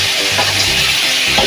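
Vegetables being sautéed with spice powders and ginger paste in a pan, a steady close sizzle and frying hiss with stirring scrapes throughout, no voices.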